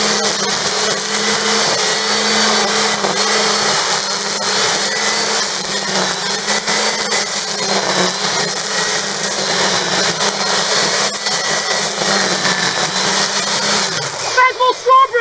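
Solar powered ELEM garden strimmer cutting grass, a steady whining motor drone with line hiss running close and loud for most of the stretch, cutting out near the end, with a person talking over it.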